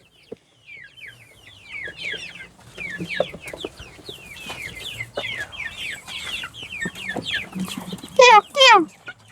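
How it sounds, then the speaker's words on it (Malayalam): Several hens and roosters cluck and chatter close by in quick, overlapping bursts, ending with a couple of louder squawks. "ഒരു കോഴി തലയിട്ട് നോക്കുന്നുണ്ട്"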